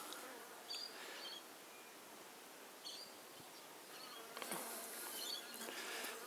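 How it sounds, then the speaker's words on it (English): Honey bees fly in and out of a hive in winter, giving a steady, faint insect buzz with brief louder passes as individual bees fly close by. "Of the bees in and out."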